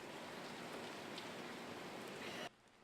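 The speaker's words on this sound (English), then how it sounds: "After so long, we finally have rain" Steady rain falling after a long drought, a dense, even hiss of drops on surfaces, moderately loud and constant until it cuts off sharply near the end, with no voices.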